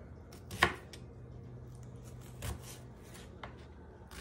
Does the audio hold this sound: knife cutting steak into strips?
yes